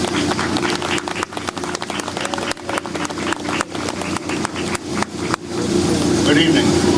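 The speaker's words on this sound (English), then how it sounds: "So give a round of applause for Lee Knepp." An audience at a town's 150th anniversary celebration breaks into sustained applause, a dense crackle of many hands clapping that fills the hall steadily, swelling louder toward the end.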